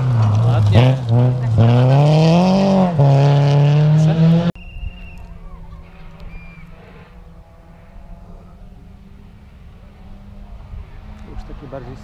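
A rally car at speed on a Rajd Nyski stage, its engine note rising and falling loudly as it passes close, then dropping abruptly to a faint, distant drone with background noise.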